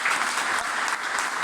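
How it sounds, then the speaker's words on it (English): Warm audience applause for a team coming on stage at a coding bootcamp demo day, a brief, steady wash of many hands clapping at moderate loudness with no speech. "Warm applause for you guys."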